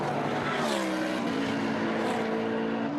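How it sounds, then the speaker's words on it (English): McLaren GT1 race car accelerating hard out of a corner, its engine note climbing in a steady, loud rising howl with rich harmonics and no voices over it. "Look at that McLaren, as Basseng feathers the throttle out of the corner"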